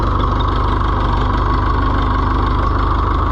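An Oliver 1365 tractor engine idles in a steady, throbbing rumble, close and loud, its low rhythmic pulse holding unchanged from start to finish with no voices.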